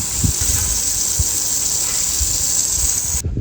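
A steady gush of water pours and hisses continuously at close range onto plants in summer, with a few soft thuds underneath, cutting off abruptly at the end.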